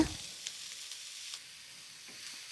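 Onions frying in coconut oil for Kerala coconut chammanthi, stirred in the pan: a faint, steady sizzle with a few soft scraping stirs, no talking.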